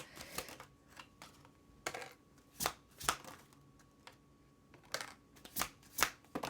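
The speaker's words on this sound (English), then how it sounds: "First, I'm going to pull 5 cards for you guys to get a sense of what is coming in love." Vivid Journey Tarot cards are shuffled and pulled, producing repeated short crisp riffles and card slaps in an uneven rhythm, close up with quiet pauses between bursts.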